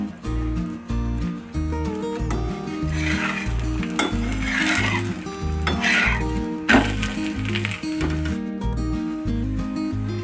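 Thalipeeth flatbread made from sprouted matki flour frying in oil on a pan, a steady sizzle with scraping and stirring clinks of a utensil, accompanied by rhythmic background music.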